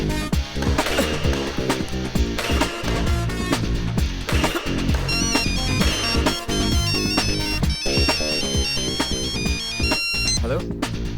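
Phone ringing after a number is dialled, a repeating electronic ringtone melody heard over layered background music, with voices briefly talking underneath.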